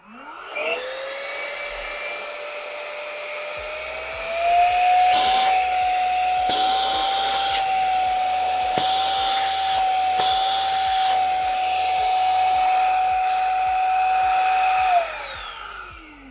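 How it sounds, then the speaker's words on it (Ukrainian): A small Hoco ZP1 car vacuum cleaner whirs up to a steady, loud, high-pitched motor whine, runs continuously with a faint rhythmic ticking, then winds down. "Давайте вімкнемо і послухаємо, як він буде працювати."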